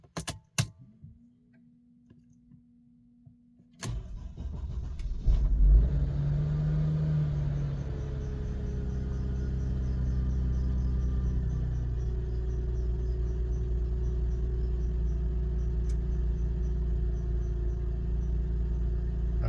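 A few clicks and a brief electronic chime, then a Mercedes car engine cranks and catches, settling into a steady idle with a low rumble and faint ticking.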